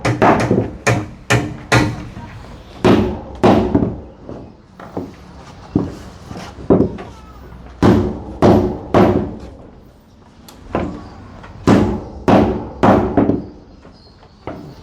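Nails being hammered into a newly installed door frame, with a long run of sharp, loud, close strikes in irregular bursts and short pauses between groups.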